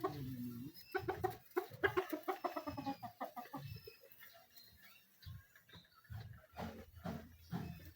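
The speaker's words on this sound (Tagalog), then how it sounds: "Kuanon sa manok." Chickens cluck nearby in a series of short, rhythmic bursts, fairly loud at first, then quieter and more scattered before picking up again near the end.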